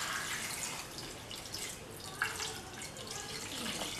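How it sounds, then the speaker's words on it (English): Water poured into a pot for coconut chicken curry makes a soft, steady trickling splash with a few drips, fairly faint and continuous over kitchen background. "Pour in 2 cups of water"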